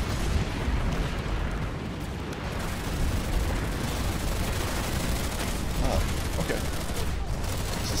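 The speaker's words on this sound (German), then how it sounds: "Sind nur wahrscheinlich irgendwelche Panzer, die von außen hier reinschießen. Deswegen explodiert hier dauernd alles." Tanks shelling from outside the area in the video game Planetside 2 make a steady, dense barrage of distant gunfire and explosions that rumble on continuously, with someone talking over the din.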